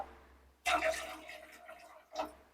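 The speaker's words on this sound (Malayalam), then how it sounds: "ഞാൻ കുറച്ചുകൂടി വെള്ളം ഇടാം ചൂടുവെള്ളം തന്നെ ഇടാം നമുക്ക്" Hot water poured into a Catla fish curry, heard as two short splashy bursts of liquid over faint kitchen background, the first longer and fuller, the second brief.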